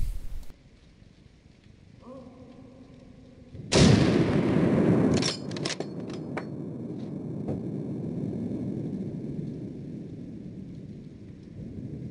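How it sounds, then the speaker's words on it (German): A single loud hunting rifle shot cracks out nearby during a driven boar hunt, then a long rumbling echo rolls away and fades slowly into outdoor background noise. "saß der Schuss sauber"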